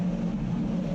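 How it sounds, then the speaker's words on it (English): An electric race car runs on studded tyres over ice and slush, giving a steady, humming drone with a rushing wash of tyre and spray noise underneath, close and constant for about a second. "all you hear is the noise of the car and the tyres and studs and the ice and slush flying up underneath"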